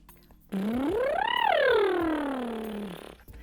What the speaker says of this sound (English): So the lip trill sounds like this.